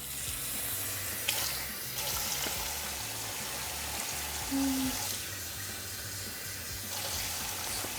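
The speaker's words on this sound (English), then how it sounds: "And 2 cups of water." Two cups of water poured into a cooking pot in a home kitchen, a faint, steady splashing stream running throughout.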